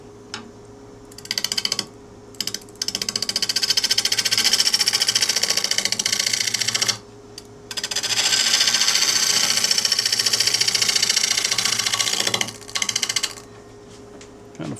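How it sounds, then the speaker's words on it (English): Sanding a live-edge wood bowl with bark still on while it spins on a lathe, a steady broadband hiss in long sustained passes broken by short pauses and a few brief bursts, over a low motor hum. "then by sanding it, it'll be a lot better"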